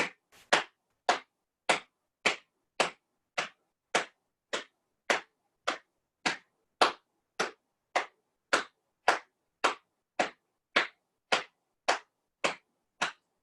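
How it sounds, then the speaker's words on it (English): Hands clap together in a steady, even rhythm, about twenty sharp single claps spaced evenly apart, close and clear with silence between each one and no talking. "let's start clapping together"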